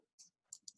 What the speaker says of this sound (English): Click on X and it deletes it.